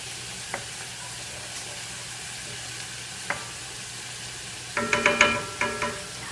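Sauerbraten sauce reducing in a pan while a spoon stirs it, with a few sharp scrapes and clinks early on and a cluster of louder metallic stirring knocks near the end over a low steady background.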